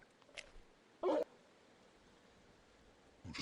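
A large dog in the video game Final Fantasy 16 gives short, faint whimpering yips, three brief bursts separated by quiet gaps.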